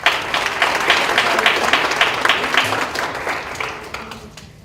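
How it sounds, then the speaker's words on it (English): Parents and staff at a school board meeting applaud a student, a loud, dense round of clapping that starts sharply and tapers off gradually over several seconds. "So please give Jada a big round of applause."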